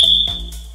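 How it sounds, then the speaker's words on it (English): A firefighter's motion-sensing personal alarm sounds loud and close, a piercing steady electronic tone that briefly stutters before continuing. "So now you can hear firefighter Brian, his alarm starting to go off, and it's gonna get louder and louder"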